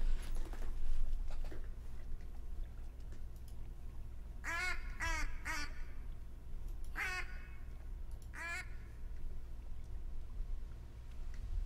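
Several ducks quack in The Hunter Call of the Wild hunting game, in short raspy bursts of two or three calls spread over several seconds, heard over a steady low outdoor ambience with a few faint rustles.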